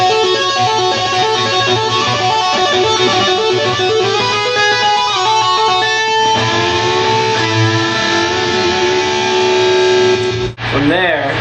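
Distorted electric guitar plays a guitar solo slowly, with a continuous stream of sustained, bending notes that holds loud for about ten seconds before cutting off abruptly.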